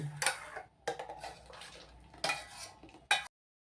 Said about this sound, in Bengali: দুধটাকে মিক্সড করে নেব